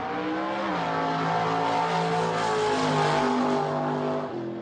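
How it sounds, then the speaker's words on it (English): Several muscle cars pass by close and loud, their engines droning steadily with rising and falling pitch as they approach and move away, with no talking. "the sounds of these muscle cars"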